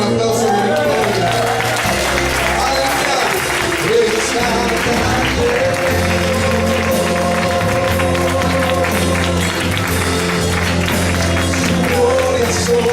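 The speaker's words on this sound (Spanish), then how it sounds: "¿Cuántos celebran eso con aplausos de victoria?" A church congregation applauding during a Sunday service, sustained clapping mixed with loud worship music and crowd voices, filling the room throughout.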